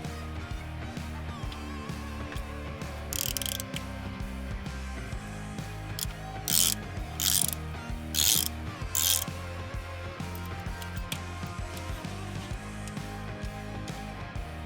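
Ratchet wrench tightening a Loctite-treated bolt on the balance-shaft oil feed of a Ford Focus ST engine, heard as quick repeated clicking bursts over a busy, steady workshop background with no speech.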